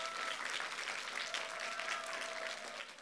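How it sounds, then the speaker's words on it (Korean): Audience applause at a Korean talk concert on regional software services, a steady wash of many hands clapping at moderate level throughout, fairly even with a slight fade at the end. "박수 한번 주세요."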